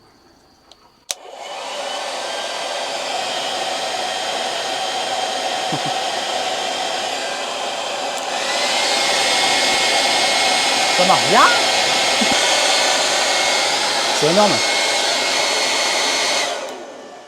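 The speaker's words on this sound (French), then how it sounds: "C'est le petit sèche-cheveux à ma maman." A small hair dryer powered by an EcoFlow Delta Max power station switches on and blows with a steady, loud whir, stepping up to a higher, stronger setting midway, while a voice speaks briefly over it.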